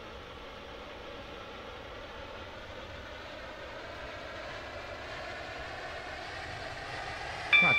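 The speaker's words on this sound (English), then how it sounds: "This train is now approaching West Benton." Steady rumble and whine of a class 730 electric train running toward a station on the Newry line, holding level throughout, with a brief sharp chime or tone at the very end.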